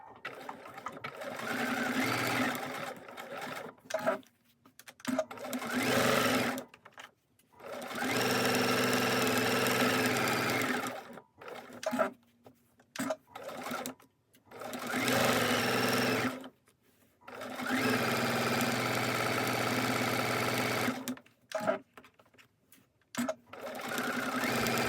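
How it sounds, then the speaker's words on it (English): A sewing machine stitches all the way round the seam of a handmade glasses case, running in several long steady bursts separated by short pauses, close and fairly loud, with no talking. "we're over at the sewing machine, and we are going to sew all the way round"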